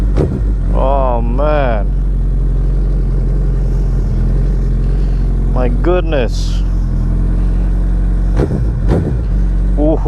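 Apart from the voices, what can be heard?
Suzuki Hayabusa motorcycle revving with Leo Vince slip-on exhaust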